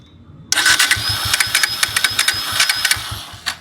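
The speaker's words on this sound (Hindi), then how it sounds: "एक बार इंजन की साउंड सुनाता हूँ मैं आपको कि प्रॉब्लम कहाँ से आ रही है।" A Bajaj Pulsar N160 motorcycle repeatedly cranks on its electric self-start and struggles to catch, giving a close, loud, rhythmic churning of starter pulses with no words spoken.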